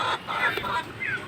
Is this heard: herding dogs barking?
no